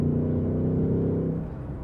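A 2024 Mustang GT V8 with a manual gearbox, Performance Pack and active valve performance exhaust gives a steady, deep droning rumble at constant revs, close and loud, easing off slightly near the end, with no voices.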